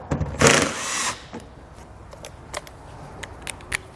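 A power tool whirs briefly for about half a second while loosening plastic 10mm nuts on a 2015 Volkswagen Golf cover, followed by a few small plastic clicks and ticks nearby.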